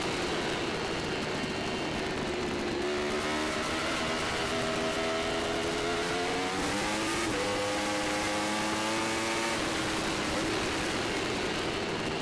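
Formula Pacific race cars run close together through the turns of a road course. Several engine notes wail and overlap, their pitch dropping and climbing as they brake and accelerate, heard at moderate distance.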